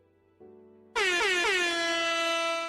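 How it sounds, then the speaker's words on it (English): A loud air horn sound effect blares in a Minecraft datapack session, rising in two quick pitch steps into a sustained, piercing blast that holds to the end. "Thank you for the air horn noise."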